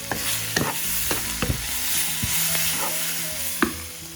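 Onions sizzle in hot oil with a pinch of salt while being stirred for cauliflower dry masala, a steady frying hiss broken by several sharp spatula scrapes and taps, close and clear with no speech.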